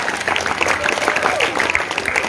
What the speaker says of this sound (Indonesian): Tepuk tangan dulu untuk Caketos kita.